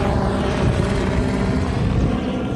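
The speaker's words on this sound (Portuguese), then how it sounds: "acabo de ver que temos um trânsito também de helicópteros. Dois helicópteros da polícia." Two police helicopters fly low over a closed-off esplanade, their rotors producing a loud, continuous, steady thrum that fills the whole stretch with no talk over it.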